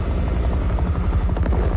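A helicopter flies low and close over snowy mountain ground, its rotor thudding loud and steady at close range with no voices.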